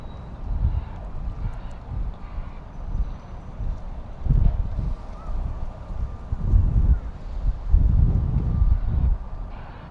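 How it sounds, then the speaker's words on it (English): Gusty wind of about 20 miles per hour buffets an outdoor microphone while a drone flies over North Acton, London, a low rumbling roar swelling and easing in repeated bursts, steady and close, with no voices. "It's like it's a windy day, like 20 miles an hour"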